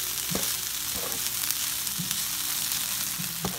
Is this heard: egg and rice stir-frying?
yes